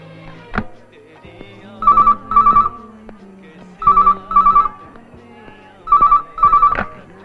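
A telephone rings in repeated paired bursts, three double rings spaced evenly, fairly loud and close, with brief sounds between rings.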